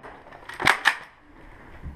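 Two quick sharp pops from Nerf blasters firing foam darts in an indoor game, close together and crisp, with a faint thump afterward in a quiet room.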